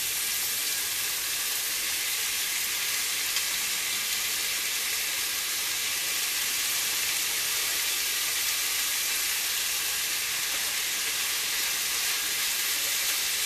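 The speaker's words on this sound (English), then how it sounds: "This don't take as long because cabbage don't take long to fry up." Cabbage frying in coconut oil in a pan, a steady, close sizzle and hiss that runs unbroken the whole time with no voices over it.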